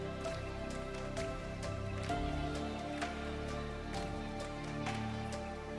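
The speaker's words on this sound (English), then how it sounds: "The rain was pouring heavily" Heavy rain pours steadily onto surfaces, a dense, unbroken hiss with scattered louder drops tapping through it, close and continuous with no voices.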